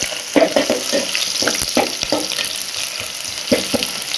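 Chopped onions dropped into well-heated oil for a spicy chicken chilli dish, giving a steady close sizzle and hiss with bursts of spattering and clatter, no talking.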